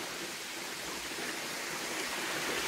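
A small mountain waterfall on a trekking route up Shiratake on Tsushima makes a steady, broad rushing hiss of falling water, close and continuous with no breaks.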